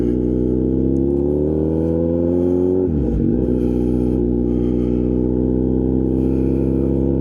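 A Kawasaki Z900RS motorcycle fitted with a Wirus Win slip-on exhaust revs loudly and close by, its droning note climbing steadily, dipping briefly at a gear change, then rising again.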